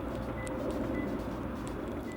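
Two short, faint electronic chirps from a 2019 Hyundai Elantra Ultimate's remote lock sound about half a second apart over a low background rumble.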